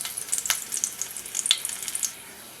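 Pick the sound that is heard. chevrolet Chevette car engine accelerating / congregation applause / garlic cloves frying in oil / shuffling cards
garlic cloves frying in oil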